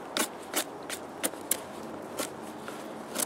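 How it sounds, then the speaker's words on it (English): Benchmade 15031-1 knife blade shaving a dead branch outdoors, giving a series of short, dry scraping strokes at an uneven rhythm, close and fairly quiet with no talk. "Cut this dead branch off, and I'll just do some shaving with this."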